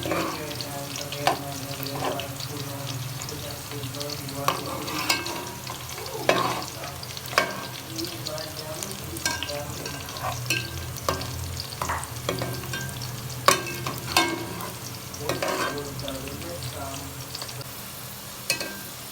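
Steady sizzling fills the background as onions brown in a pan, with occasional scraping and stirring clatters close by.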